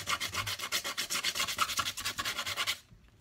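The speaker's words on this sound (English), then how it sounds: "you can take sandpaper and" Sandpaper rubs quickly back and forth over a homemade dagger in about twenty even, close strokes, then stops abruptly near the end.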